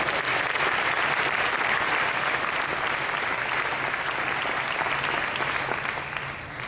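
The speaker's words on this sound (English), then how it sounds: "Again, please give a big round of applause for this great couple." An audience at an award ceremony gives a couple sustained, dense applause, loud and steady throughout before easing slightly at the end.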